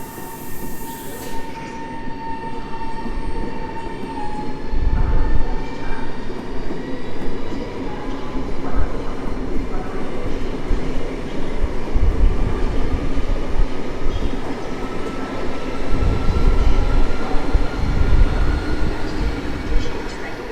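A PKP Intercity express train, the Berlin-Warszawa Express, pulls into Warszawa Zachodnia station with a loud rolling rumble, wheel screech and surging clatter, close by for a long stretch.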